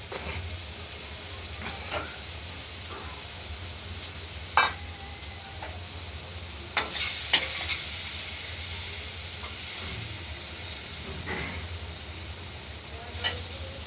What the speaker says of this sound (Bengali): কুমড়োটা আরেকটু রেখে ভাজা ভাজা করে নেব